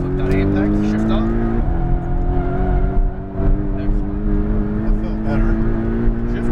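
A Porsche Cayman GTS engine at full throttle on a race track, a loud, steady high-revving drone with rising harmonic tones and a brief dip at a gear shift, heard from inside the car.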